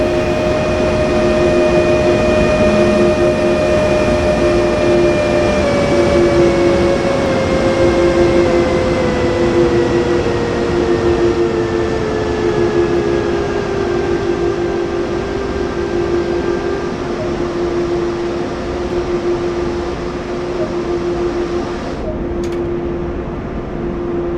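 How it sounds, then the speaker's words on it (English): A BR 185.2 locomotive train in Train Sim World 2020 rumbles in steadily, its tonal hum dropping in pitch as it slows, with a brief clank near the end. "train's coming in."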